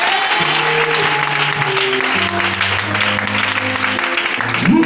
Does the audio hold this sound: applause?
yes